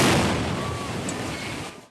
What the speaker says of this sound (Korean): 거대한 폭음과 함께 대형 장갑 트럭이 장난감처럼 부서집니다